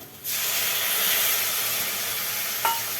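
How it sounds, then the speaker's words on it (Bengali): Water poured into a hot pan of frying poppy seeds bursts into a loud, steady hiss of steam and sizzle that holds for several seconds, close, with a small clatter near the end. "জল দিয়ে দেওয়া হলো"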